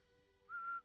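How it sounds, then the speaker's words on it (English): A single sustained whistled tone from a person, steady and clear for about a third of a second, rising out of a quiet room hum at close range with no talking. "Is that how you whistle?"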